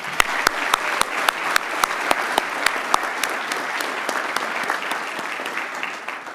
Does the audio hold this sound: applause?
yes